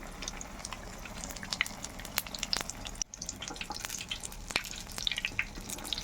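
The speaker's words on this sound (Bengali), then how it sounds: "এবার এইভাবে বেসনে ডুবিয়ে ডুবিয়ে দিয়ে দেবো তেলের মধ্যে" Besan-battered tomato chops fry in a full pan of hot oil, a low, continuous sizzle broken by sharp crackles and pops scattered unevenly, heard close up.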